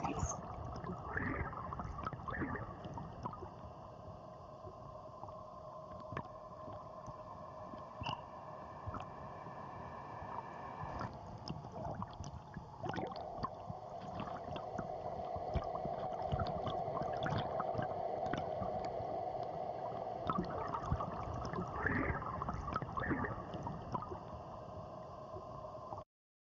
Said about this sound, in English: So that sound was recorded in the river, actually, by Matt Rogalski and then mixed into that environment